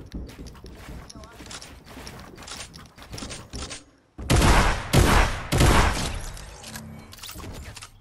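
Gunfire in the video game Fortnite: loud, rapid bursts of shots cluster in the second half, following quieter clattering game sounds, with voices in the mix.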